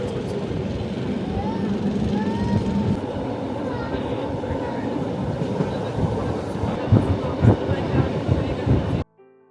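Bernina Red Line train running on its tracks through an alpine landscape, a steady loud rumble with squealing wheel tones and occasional clacks, heard from on board, continuous until a sudden cut.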